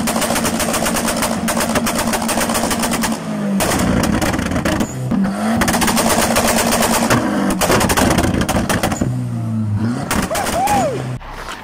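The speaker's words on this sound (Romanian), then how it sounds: "pe evacuile astea așa imense scoate niște flăcări la fel de imense" VW Bora with a straight-through, pipe-only exhaust running from front to rear, revving hard with loud crackling backfire pops and bangs in rapid bursts over a rough engine drone, close and continuous.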